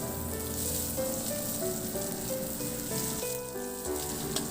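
Onion sautés in a pan for a simple chicken dish, making a steady, moderate sizzle beneath a layer of sustained musical tones, with no speech.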